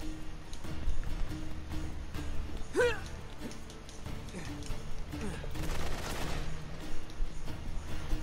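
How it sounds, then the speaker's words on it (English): Enemy gunfire in the video game Uncharted: Drake's Deception, rapid bursts of shots and automatic fire running through the scene, with a player talking over it at times. "Oh no, they're shooting now."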